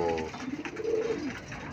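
Racing pigeons cooing at a loft in Pampanga during a summer race, a soft low gliding coo close by over a busy background hum.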